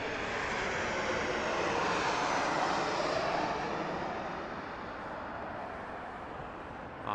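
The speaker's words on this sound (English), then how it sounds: "Southwest Airlines is coming in hot over here" A Southwest Airlines jet comes in to land at Las Vegas Harry Reid airport, its engines roaring loud and broad, peaking mid-pass and then easing off slightly, with no speech.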